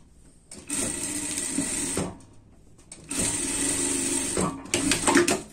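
A sewing machine stitches seams on a themed party dress in two sustained, steady runs. The runs are close and fairly loud, separated by a brief pause, with a few short stops near the end.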